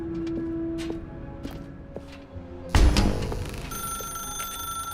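A telephone rings in the video game The Stanley Parable Ultra Deluxe with repeated electronic ring tones, then a sudden louder burst of noise and a lingering tonal hum.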